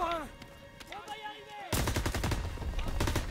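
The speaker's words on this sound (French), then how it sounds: "Bon cette arme, celle-ci la MP40, elle est vraiment superbe" Rapid MP40 submachine gun fire in the World War II shooter Call of Duty WWII, a loud burst of close shots arriving after a stretch of quieter game sounds and music.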